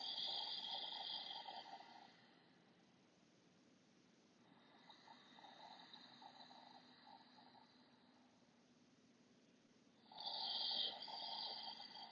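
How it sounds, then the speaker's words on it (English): Slow, deep breathing during a calm evening relaxation exercise, soft and close, with a long audible inhale-exhale cycle and quiet pauses between breaths. "Long, deep breaths."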